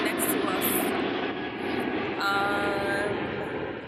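A plane flies low over a beach near an airport during an evening bonfire, giving a loud, steady broadband engine roar that holds throughout, with a tonal whine rising near the end.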